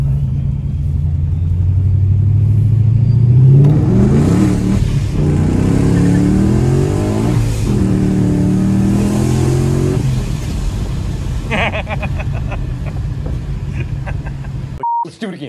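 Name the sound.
supercharged 2016 Mustang GT accelerating hard on a wet road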